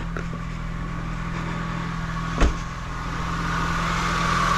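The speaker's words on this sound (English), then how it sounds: "now that the car is running" A car engine idles steadily after a jump start on a cold day, with a low even hum and one brief knock partway through, no voices.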